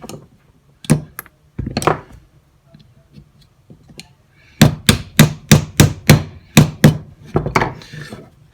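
Metal frame pin pressed into a Ruger Security-9 pistol frame during reassembly: a run of sharp, close taps and clicks, two isolated knocks first, then a quick series of about eight crisp strikes near the end.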